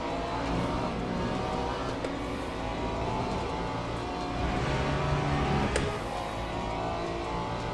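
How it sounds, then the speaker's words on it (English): A group of hypercars race wheel to wheel in the Le Mans Ultimate sim, their engines a dense, continuous roar with a brief spike near the end. No one speaks. "That was a trio of fighting hypercars, lovely."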